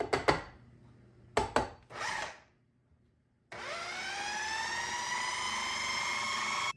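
A food processor whirs steadily after a few bumps and knocks, blending egg, flour, cornstarch and baking powder for homemade cheese crackers; the motor hum runs loud and even to the end.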